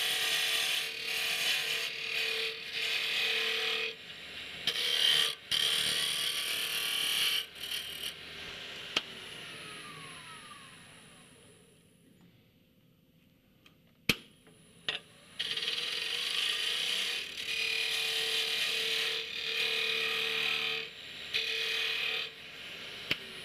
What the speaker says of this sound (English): I saw I was really, really off, so I'm going to have to clear away a lot of material. I'm going to do that with the bowl gouge.